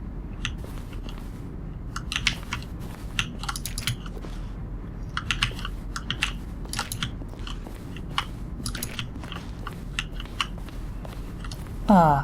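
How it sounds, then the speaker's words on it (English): Button presses from The Stanley Parable, each mixing a keyboard keystroke with a synthesized tone, in a dense run of sharp clicky taps over a steady background hum, ending in a brief rising tone. "A selection of sounds used throughout the game when buttons are pressed. Each sound is a mix of a keyboard stroke and a synthesized tone."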